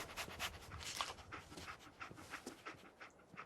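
Dogmeat, the dog companion in Fallout 4, pants steadily in quick rhythmic breaths, fairly close and soft, with faint ambient game sound underneath.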